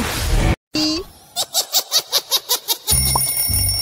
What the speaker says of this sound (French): le réveil sonne, il est donc temps de se lever